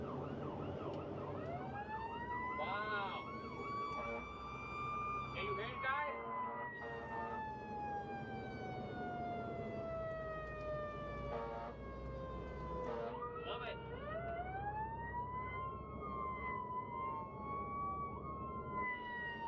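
A fire truck siren sounds at a distance, its wailing tone sweeping slowly down and then switching to quicker yelping patterns, with a steady engine rumble and faint background noise underneath.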